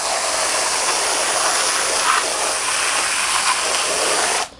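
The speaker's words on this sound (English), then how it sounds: "all we're going to do is to take a hose and start spraying on them" Steady, loud hiss of a hose spraying water onto pads, continuous and close, cutting off abruptly at the end.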